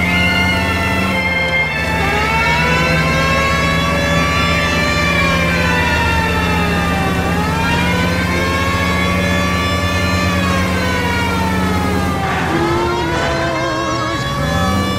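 Emergency vehicle siren from the video game L.A. Noire, a loud continuous wailing tone rising and falling in long sweeps over a steady engine drone, with sharper dips near the start and end.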